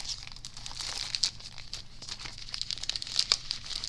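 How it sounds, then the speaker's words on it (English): Plastic wrap on a card-making kit crinkles and tears close by, a steady run of light rustling with louder sharp crackles, alone. "Let's open up the plastic wrap and see what else we have to make cards with."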